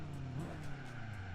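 A race car in Gran Turismo 4 loses grip through a turn, its tires squealing in a sustained whine over a steady engine drone, fairly quiet and without talk.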